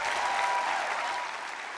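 Enthusiastic round of applause from a graduation ceremony audience at Victoria University after an honorary Doctor of Laws is conferred, dense steady clapping that tapers slightly toward the end.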